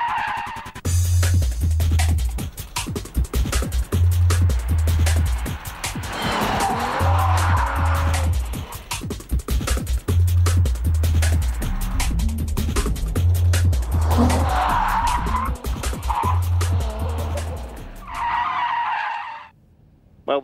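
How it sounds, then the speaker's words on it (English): A drifting car jumps the curbs and slides through corners, its engine revving in repeated surging pulses under long, loud tire squeals and skids that run nearly continuously before cutting out. "When you launch the car over the curbs, it unsettles the rear end, you get the oversteer, and then you can carry the drift through the corner."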